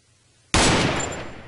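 After a brief quiet moment, a single loud, sharp burst of gunfire rings out and decays over a second, a close, harsh muzzle-blast sound effect.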